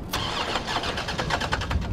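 A car engine cranks and catches in the video game Resident Evil 3 Remake, a rhythmic starter chugging rising into a running motor, close and steady.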